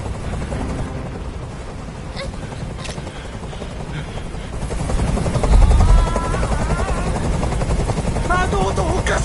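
A helicopter hovers overhead in the video game Detroit: Become Human, its rotor drone steady and loud throughout and swelling midway, with voices speaking over it.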